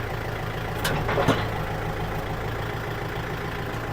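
A Kubota MU4902 tractor fitted with a front blade and a six-disc plough idles steadily nearby, a low continuous engine drone with a couple of brief clanks early on.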